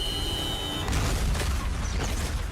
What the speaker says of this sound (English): Research Center Q has kindly added the ability to explode.